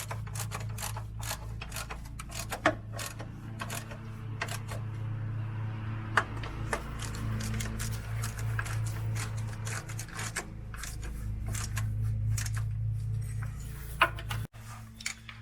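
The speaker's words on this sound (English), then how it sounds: "you gotta tighten up the 4 bolts that would previously have been holding a transmission mount in place" Ratchet clicking while bolts are tightened on a solid transmission crossmember brace under a 2011 Subaru, rapid ticking in short bursts over a steady low hum, with a few sharper metallic knocks.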